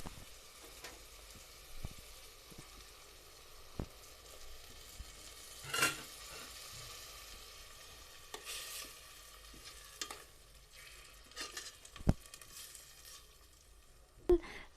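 Mixed vegetables simmer in a pot with a little water, salt, cumin and coriander, a soft bubbling sizzle broken by a few nearby stirring scrapes and clicks.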